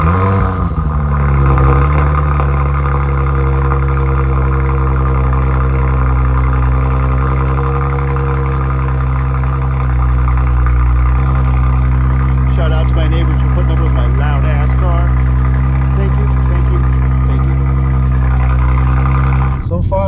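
A tuned Audi RS5 Sportback engine rumbles steadily and loudly with a deep, sustained drone and strong low harmonics, its pitch shifting slightly as it runs and drives.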